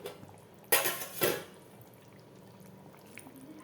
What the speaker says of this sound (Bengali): এখন আমি মাছগুলো দিয়ে দিব একটা একটা করে